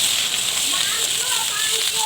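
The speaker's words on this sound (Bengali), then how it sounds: "এবার সবজিগুলো ভেজে নেব" Vegetables fry in hot oil in a pan, giving a steady, bright sizzling hiss that runs continuously throughout, with a voice talking over it.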